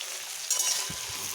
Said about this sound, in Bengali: কাঁচা আছে, এটা আমাকে আলুগুলো ভেজে নিতে হবে তেলের মধ্যে